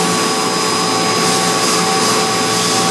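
A Mazak Integrex 200 IIIST machine spindle running at 10,000 RPM gives a steady, loud high-pitched whine and broadband hiss with fixed tonal lines, continuous and unchanging throughout, with no talk.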